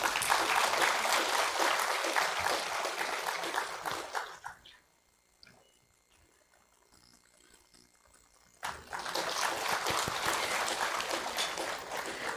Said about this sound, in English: Claps can be louder, please.